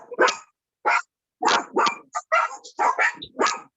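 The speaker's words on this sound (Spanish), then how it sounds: "Tiene un perrito, parece." A small dog barks in rapid bursts of short, sharp yaps, picked up over an open microphone during an online class. The barking is close and fairly loud, with brief pauses between the bursts.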